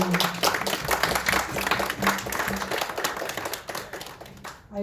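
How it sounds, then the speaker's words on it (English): A club audience gives a sustained round of applause at a model boat meeting, steady dense clapping throughout with some voices mixed in, fading slightly toward the end. "Let's give them a round of applause."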